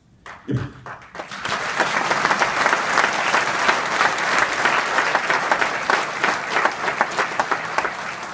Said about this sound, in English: I just got applauded by Ben Watkins